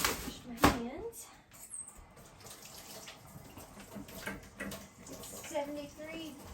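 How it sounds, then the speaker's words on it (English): Tap water runs into a sink while someone washes hands after handling raw chicken, a soft steady splashing with a sharp knock near the start and people talking over it. "wash my hands."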